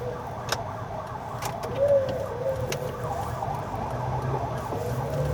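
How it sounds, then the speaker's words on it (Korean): Ambulance siren passing on a city street in Eunpyeong-gu, Seoul, heard from inside a moving vehicle, a faint rising wail over steady road and engine rumble with a few sharp clicks. "앰뷸런스가 지나가고 있는 것 같습니다."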